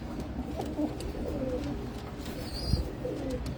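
Pigeons coo softly and repeatedly nearby, low throaty calls over faint background noise, with a brief higher chirp partway through.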